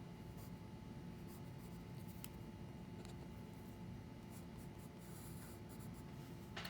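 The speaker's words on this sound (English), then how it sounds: "you're going to draw their little ears" Pencil drawing longhorn ears on paper for a school art project, a steady close scratching with soft strokes throughout, quiet and continuous.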